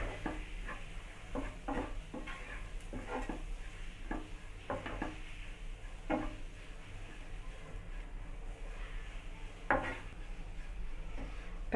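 Okra fry (vendakkai podimas) being stirred in a pan, with a steady low sizzle under repeated scraping strokes of a spoon against the metal, close and moderately loud.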